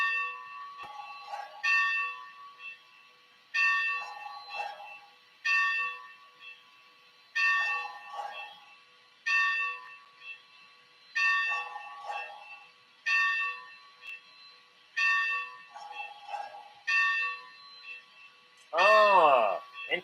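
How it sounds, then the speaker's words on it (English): A small model train locomotive bell rings in repeated bursts, roughly every two seconds, close and clear, at night, ending with a rising electronic chirp. "I like the sound of the bell in the dark"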